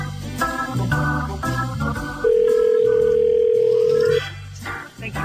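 A telephone line tone sounds on a call to a Waffle House restaurant on Harding Place: one steady, loud electronic tone lasting about two seconds, set between busier sound before and after.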